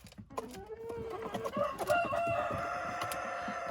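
Young Dominant-breed chickens clucking and calling close by in a cage, a busy flock chattering with overlapping squawks and a rising crow-like call.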